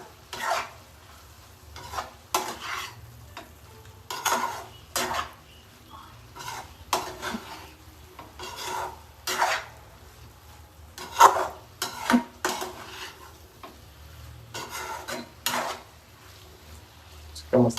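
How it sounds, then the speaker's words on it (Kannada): Mushroom sukka is stirred in a pan, with a spoon scraping and tapping the metal in irregular bursts over a faint low sizzle, close and fairly quiet. "ಇದಿಷ್ಟನ್ನ ಆಡ್ ಮಾಡ್ಬಿಟ್ಟು ಇದನ್ನ ಕ್ಲೀನ್ ಆಗಿ ಮಿಕ್ಸ್ ಮಾಡ್ಕೊಳ್ಳೋಣ"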